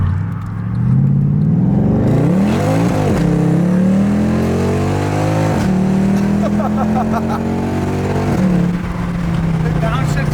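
A Mercedes C63 AMG with an aftermarket Valvetronic exhaust revs loud and close, climbing through gears with distinct shift breaks and rising engine pitch, while voices talk over it.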